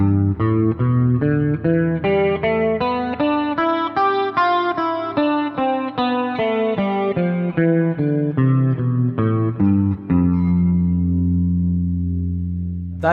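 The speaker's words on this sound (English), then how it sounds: "They are the notes of Rag Yaman." Guitar picking the notes of Raga Yaman as a fast run of single notes climbing and falling, ending on a held, ringing chord with effects and reverb, loud and alone.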